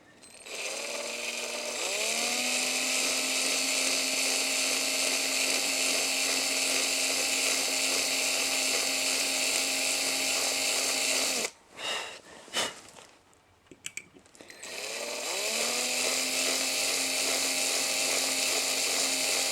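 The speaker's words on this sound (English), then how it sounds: "Right, so we've got the 1mm drill in. Drill this down onto here." A 1mm bit in a small high-speed drill bores into a die-cast 1970 Ford Escort RS1600 Lotus Cosworth coupe model, giving a sustained shrill whine that drops out briefly midway and then spins back up.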